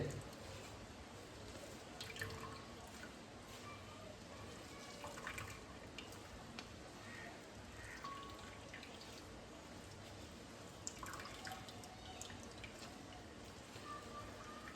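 Soft, steady trickling and dripping of whey from squeezed homemade paneer for the whole stretch, quiet and close, with scattered small drops landing in a pool.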